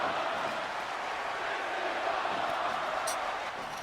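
A wrestling crowd at an SOW Rev Your Engines III event fills the hall with a steady, distant roar of massed voices, a dense wash of cheering with no distinct single voices.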